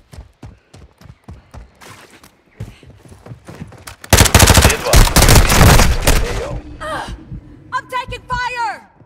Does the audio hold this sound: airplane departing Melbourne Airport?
no